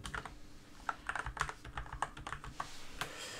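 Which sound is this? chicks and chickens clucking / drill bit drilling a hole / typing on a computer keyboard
typing on a computer keyboard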